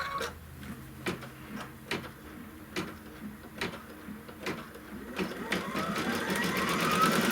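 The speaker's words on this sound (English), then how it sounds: "it will stitch the little buckle on his shoe" A Kimberbell embroidery machine stitches a small shoe buckle in yellow thread, sounding as a close rhythmic series of clacking needle strikes over a motor hum that grows louder and denser toward the end.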